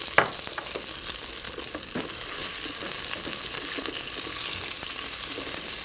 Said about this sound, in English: So these have been pan frying now for about 5 minutes.